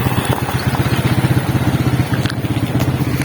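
A dirt bike engine runs steadily nearby, a rough pulsing motor note that holds an even rhythm throughout with no voices over it.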